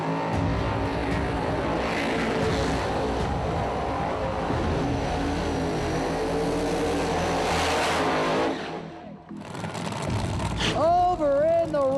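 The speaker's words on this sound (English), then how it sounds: "Over in the right lane, driving that nitrous-fed Camaro, that is gonna be Kai Kelly." A nitrous-fed Camaro roars through a drag racing launch, a loud sustained engine blast that cuts off abruptly, followed by a brief quieter stretch with a voice speaking.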